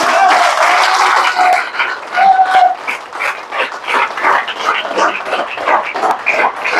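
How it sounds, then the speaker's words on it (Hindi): An audience at a network marketing seminar breaks into loud, sustained applause, dense clapping that holds steady and then continues in rougher bursts until the end. "मिस्टर प्रताप रावत सर के लिए ताली बजा दीजिए आप।"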